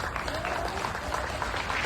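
An audience claps to thank a panel of expert doctors at a diabetes health event, a steady, dense round of applause that holds at a constant level and sounds a little distant.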